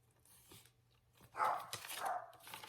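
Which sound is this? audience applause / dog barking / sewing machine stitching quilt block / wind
dog barking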